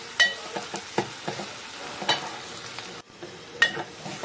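Onions fry and get stirred in a pan, a steady sizzle broken by sharp spatula scrapes and clacks against the metal. The sound is close and alone, with no voices.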